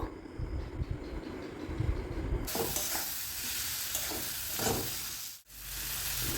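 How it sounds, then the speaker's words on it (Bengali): Tomato and onion with salt and turmeric being sautéed in a pan, a soft crackle and stir at first that swells into a louder, dense frying hiss with occasional spatula strokes and a brief dropout near the end. "এখন সমস্ত কিছু ভালো করে ভেজে নিতে হবে মানে কষিয়ে নিতে হবে"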